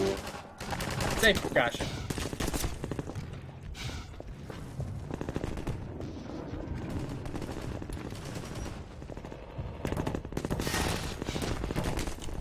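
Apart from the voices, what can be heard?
gunfire from the video game Half-Life 2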